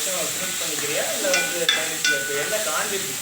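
Garden vegetables sauté for a stir-fried poriyal in a pan on a stove, giving a soft, steady sizzle with a few light clinks of stirring.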